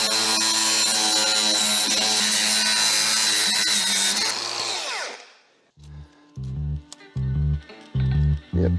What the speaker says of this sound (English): I think grinder will be the best option here.